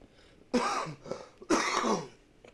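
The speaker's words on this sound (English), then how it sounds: "That cough, dry throat." Two close, forceful coughs about a second apart, with a short throaty sound between them and no speech.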